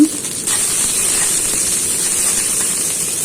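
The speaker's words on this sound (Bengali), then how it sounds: "রসুনগুলোকে কিছুক্ষণ ভেজে নিয়ে এর মধ্যে দিয়ে দিচ্ছি শুকনো মরিচ" Garlic fries in hot mustard oil in a kadai, producing a loud, continuous hissing sizzle that starts abruptly after a brief pause and holds steady throughout.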